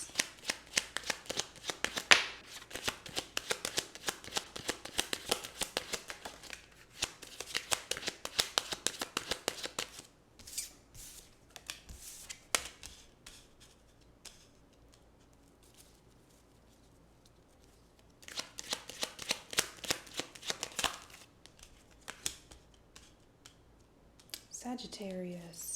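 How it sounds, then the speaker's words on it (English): Tarot cards shuffled by hand in several long bursts of rapid riffling, close and crisp, separated by quieter stretches, with a voice talking at times. "I'm going to pull some tarot cards and then some oracle cards to top it off"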